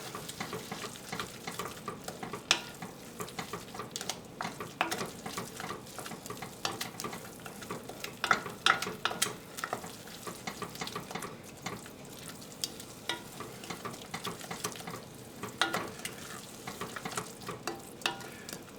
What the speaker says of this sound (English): I just want to cook that paste, that tomato paste, to get that raw tomato paste flavor cooked out